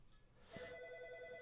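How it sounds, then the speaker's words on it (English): A telephone rings during a session of the old computer role-playing game Ultima I, with a steady electronic ring entering partway through and sustaining to the end at moderate volume over faint room tone. "Let the phone ring through."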